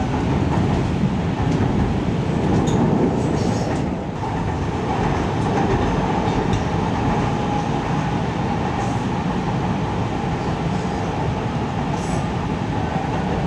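CTA Blue Line train bound for O'Hare rolling along at speed, a loud, continuous rumble and roar heard from inside the car with faint rail clatter and brief squeals, steady throughout with no talk.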